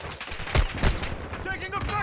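Rapid gunfire in a first-person shooter video game, a few sharp bursts close by over a steady game soundscape, with players talking over the shots.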